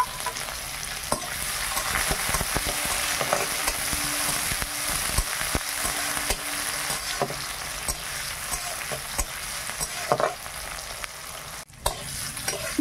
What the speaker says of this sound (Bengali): দিলাম 5 ফোড়ন, আর দিচ্ছি পেঁয়াজ আর টমেটো আর তেজপাতা দুটো